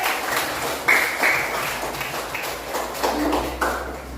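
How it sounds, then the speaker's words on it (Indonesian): A group of children claps together in a brief round of applause, steady patter of hands in a room with some background chatter. "Tepuk tangan untuk Solihin."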